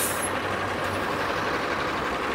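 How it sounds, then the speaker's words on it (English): A Toronto TTC 952 Lawrence Avenue West bus passes on a city street, a loud broad roar of engine and traffic noise sweeping by close, with a brief hiss at the start. "Lawrence Avenue West bus."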